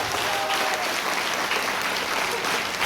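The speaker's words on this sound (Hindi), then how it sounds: "मैं चाहूंगी इसके लिए जोरदार तालियां।" A crowd at a leadership speech event applauds loudly and continuously, a thick, even roar of many clapping hands with no break throughout.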